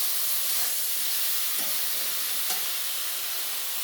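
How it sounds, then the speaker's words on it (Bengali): Spices and red chili powder are stir-fried under a loud, even steamy hiss, with a couple of faint utensil scrapes partway through. "দিয়ে আমি ভালো করে কষিয়ে নেব।"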